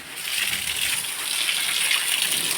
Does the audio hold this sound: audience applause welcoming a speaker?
no